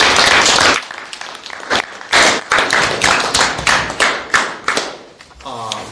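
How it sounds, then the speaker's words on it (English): Scattered clapping from a small group in a JROTC hybrid class setting, a brief burst of steady claps at first and then separate, uneven claps that thin out toward the end. "All right, everybody give a round of applause."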